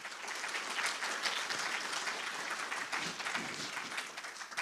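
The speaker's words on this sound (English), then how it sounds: "our team do deserve a round of applause just for the way it looks at the start" A conference audience at Sywell Aerodrome in Northamptonshire gives a round of applause, a continuous, moderately quiet patter of many hands that stays level for several seconds.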